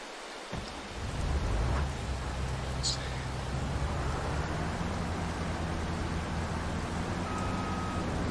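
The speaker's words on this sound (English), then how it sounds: "Oh no, it's raining." Steady, dense rain hiss with a low rumble underneath, continuous throughout at moderate level, rain ambience in Farming Simulator 22.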